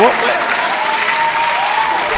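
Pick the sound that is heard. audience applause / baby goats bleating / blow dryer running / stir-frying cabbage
audience applause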